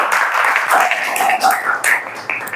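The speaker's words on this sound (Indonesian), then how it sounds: "beri tepuk tangan dulu untuk kelompok 2" Applause for a student group at a classroom presentation, a dense wash of clapping that runs steadily for a few seconds with some murmuring voices mixed underneath.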